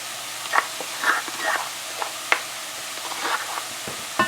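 Crushed garlic and pepper hit a hot frying pan of squash and chicken, giving a steady soft sizzle broken by scattered scraping stirs and clinks of a utensil, moderately close, with no talking.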